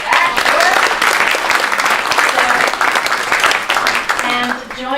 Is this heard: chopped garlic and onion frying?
no